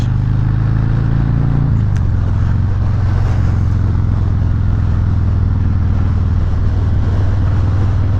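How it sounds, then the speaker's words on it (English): A 2019 Harley-Davidson Heritage Softail Classic with the 114 engine being ridden, its loud, deep engine rumble droning steadily with wind noise; the engine note drops slightly after a couple of seconds, then holds. "This is again the Harley Davidson Heritage Softail Classic with the 114"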